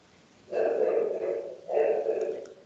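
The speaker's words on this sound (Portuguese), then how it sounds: "Olha o seu cachorro latindo aí" A dog gives two drawn-out, fairly loud barking or howling calls close by, each lasting about a second with a short pause between, over quiet background.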